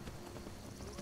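Horse hooves galloping in Skyrim, a steady rapid clip-clop of footfalls at moderate loudness with ambient game sound behind it.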